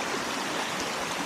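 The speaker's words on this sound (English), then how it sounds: "It literally is a river." Water rushes steadily down a flooded mountain path in the remote Welsh mountains, flowing like a river and making a dense, continuous broadband hiss close by.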